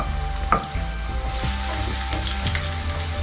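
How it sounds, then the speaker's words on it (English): Julienned vegetables sauteing in a hot pan for a creamy tomato penne pasta, a close steady sizzle with a few soft stirring scrapes and knocks, no talking. "You just have to saute it a little bit, not a lot."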